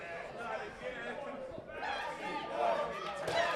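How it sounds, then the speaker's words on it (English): A crowd chants loudly at a wrestling event, filling an arena with a continuous roar while a person talks over it. "You hear what the crowd's chanting"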